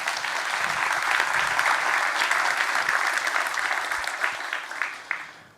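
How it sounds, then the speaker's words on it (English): A crowd at a startup demo day applauds the startups, with dense, sustained clapping that fills the room at a strong, even level. It tapers slightly near the end, with a few last separate claps. "So let's give them an applause"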